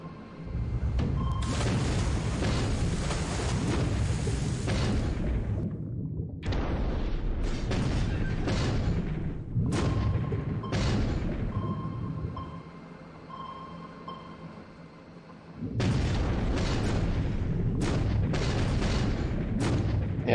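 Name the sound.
submarine firing torpedoes in video game War in the Pacific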